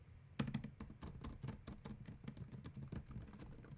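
Rapid clicking keystrokes on a 2018 MacBook Pro 15 keyboard, a steady run of light taps close by with no voices.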